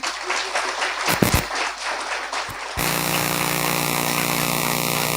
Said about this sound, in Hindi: अभी ताली जोरदार नहीं बजी।